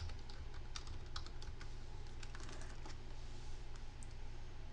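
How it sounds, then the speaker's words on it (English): Quick, light keystrokes on a computer keyboard as a web address is typed, a steady run of soft clicks at low volume with no talking. "If you just go in and you type in"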